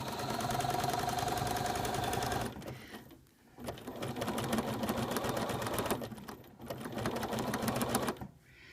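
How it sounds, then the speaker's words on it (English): A sewing machine stitches over quilt pattern pieces in fast, continuous bursts of rapid clatter, stopping briefly twice between runs, close and clear with no talk. "You can stitch over the piece, the pattern pieces more than once."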